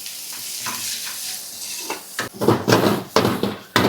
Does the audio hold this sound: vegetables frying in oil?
yes